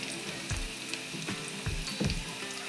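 Onions turn pink as they fry in a pan for fish curry, giving a steady close sizzle with a few soft knocks and stirring bumps.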